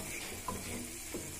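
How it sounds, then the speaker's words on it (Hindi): A spoon stirs soybean and potato curry in a pan, producing a couple of faint scrapes and clinks over a low hiss in a brief, quiet moment. "अब चम्मच से इसको लगातार अच्छे से मिक्स करेंगे"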